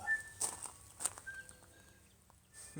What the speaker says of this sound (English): So the tuis are out this morning